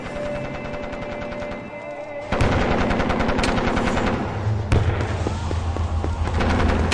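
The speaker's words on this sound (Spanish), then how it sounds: "acompañados por los disparos de armas de fuego." Loud bursts of gunfire crackle and pop, sharpening after a low rumble into rapid volleys with heavy booms, dense and continuous throughout.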